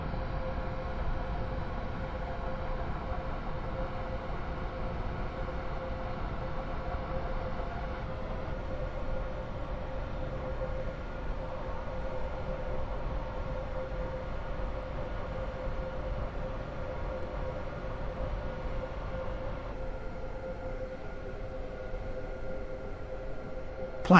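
A passenger train runs along the line in the Roblox game, a steady rumble with a sustained tonal hum and slight shifts in pitch partway through, continuous and without talk.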